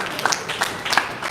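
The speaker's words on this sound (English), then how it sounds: "Let's clap for her." A few scattered handclaps come from a live wellness-event audience, sparse and uneven, lasting only a moment.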